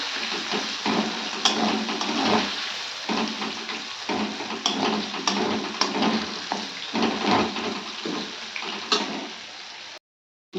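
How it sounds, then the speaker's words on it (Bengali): Panch phoron spices, a bay leaf and a dried chilli fry in hot oil, giving a steady, close crackling sizzle with a few scraping stirs and soft knocks throughout, cutting off abruptly at the end. "মশলা সব দিয়ে দিয়েছি আর একটু ভেজে নিচ্ছি এটাকে"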